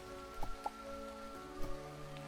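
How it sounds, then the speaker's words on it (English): Rain patters steadily in a video game world, with a few sharper drops over a constant soft wash and underlying tonal game music. "Oh, it's raining."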